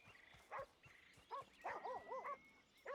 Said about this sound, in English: Otherwise they will just stand there and incessantly bark for hours and hours and hours